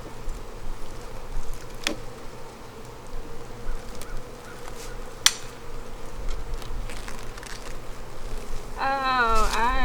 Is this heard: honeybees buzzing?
yes